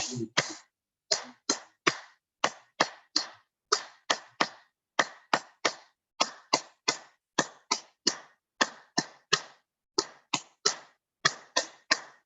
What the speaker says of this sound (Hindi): तो आइए शुरू करते हैं, ताली बजाएं।